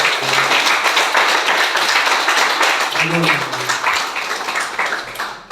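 A church congregation applauds together in sustained, dense clapping that fills the room, with some voices briefly audible beneath it before the applause begins to thin out toward the end.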